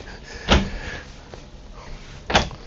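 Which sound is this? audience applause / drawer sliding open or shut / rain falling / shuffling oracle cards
drawer sliding open or shut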